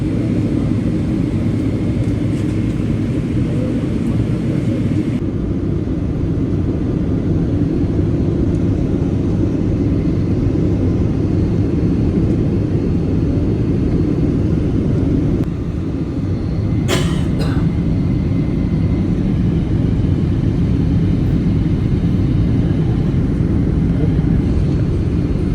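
An airplane landing at Jeddah fills the cabin with a steady, loud engine and airflow roar that runs unbroken throughout, with a brief sharp rattle partway through.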